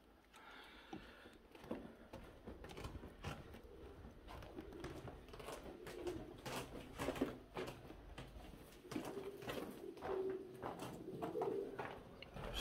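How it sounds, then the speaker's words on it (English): Many pigeons coo and flutter steadily in the upper floors of a derelict cinema abandoned since 1992 in Doncaster, a busy, continuous chorus at moderate distance with some wing patter. "Sounds busy up here with pigeons."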